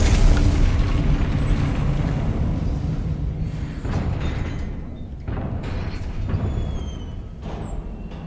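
Confringo blasting spell explosions in Hogwarts Legacy, a heavy booming burst up front followed by repeated rumbling blasts and crackling impacts through a spell-heavy fight, loud and close with no talking.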